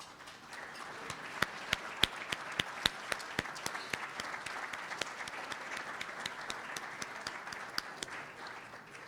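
An audience at an annual meeting applauding board members as they stand, a sustained round of clapping from a modest crowd with crisp individual claps standing out near the front.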